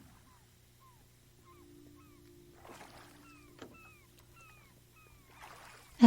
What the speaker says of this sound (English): Some seagulls follow the boat.